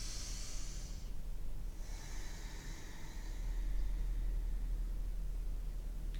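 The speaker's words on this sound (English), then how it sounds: "Take a deep breath in." Slow, deep breathing during a yoga side-body stretch: a soft hissing inhale, a pause, then a longer airy exhale, close and quiet over a steady low background rumble, with no talking.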